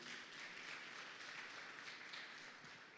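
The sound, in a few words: applause in church service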